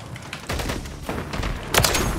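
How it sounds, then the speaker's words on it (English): AK-50 fire in the Call of Duty video game comes as loud, dense bursts of rapid shots at close range, with a heavier blast near the end. "Even just shooting the AK-50 is kind of wild."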